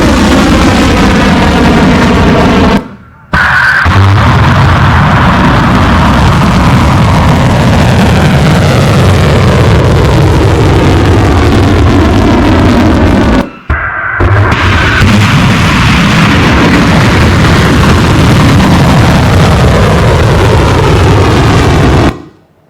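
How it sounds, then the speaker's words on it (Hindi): Iranian missiles launching toward a US air base, a loud, continuous roaring rumble broken by two brief silent cuts, heavy and close without any voices. "ये मिसाइल लॉन्च का वीडियो आप देख सकते हैं"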